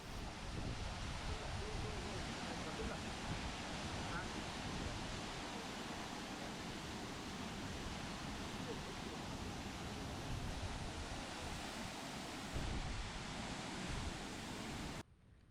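A waterfall on Jeju Island roars steadily for the whole stretch, a dense and constant wash of falling water that stays loud and close without a break and cuts off sharply at the very end.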